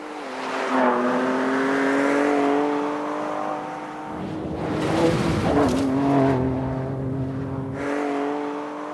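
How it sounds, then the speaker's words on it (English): A 2024 Ford Ranger Raptor's 3-liter twin turbo V6 revs up in rising, harmonic sweeps, dips, then climbs again, loud and close, with a throaty growl between pulls. "The 3-liter 6-cylinder twin turbo is a fantastic engine. It sounds great on the Ranger."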